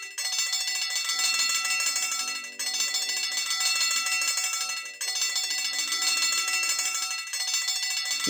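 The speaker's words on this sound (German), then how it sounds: "das war nur die Glocke" A bell rings repeatedly in the point-and-click adventure game Simon the Sorcerer, a bright, sustained metallic clanging that repeats in steady cycles of roughly two and a half seconds, loud and alone with no talk over it.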